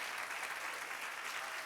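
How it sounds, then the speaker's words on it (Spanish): Sustained applause from a church congregation, a thick, even roar of clapping hands that holds at the same level throughout without breaks. "Dale aplauso, dale aplauso."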